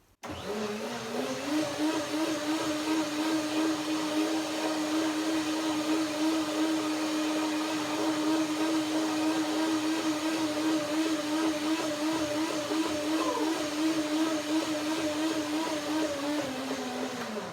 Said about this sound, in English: Now I do the second blender dance to get the second blending to make the dressing really nice and creamy.